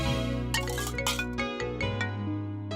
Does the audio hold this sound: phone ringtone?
yes